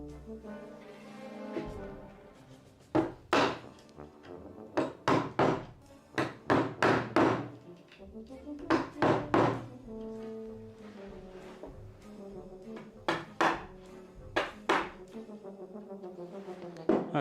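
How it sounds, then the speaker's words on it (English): A chisel is struck against wood while working beside a door panel during a door restoration, giving a series of sharp, close knocks in irregular bursts separated by quieter pauses. "I could probably take a smaller chisel to work next to this panel"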